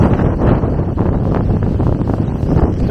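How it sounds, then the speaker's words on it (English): Strong storm wind gusting against a parked motorhome, a loud, steady rumbling roar buffeting the microphone throughout, with no speech. "the wind is coming in, but it's coming in at an angle"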